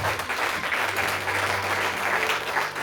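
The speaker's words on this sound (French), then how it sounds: "Acclame d'abord Jésus, acclame." A church congregation applauds, dense and loud, as one continuous wash of clapping that holds steady for a few seconds with no voice standing out.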